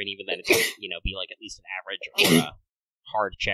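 A single sharp sneeze bursts out amid a tabletop role-playing game session, followed by a second sneeze-like burst, with people talking around it.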